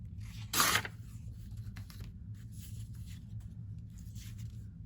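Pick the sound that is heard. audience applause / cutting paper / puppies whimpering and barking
cutting paper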